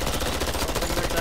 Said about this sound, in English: Can we just shoot that mine down?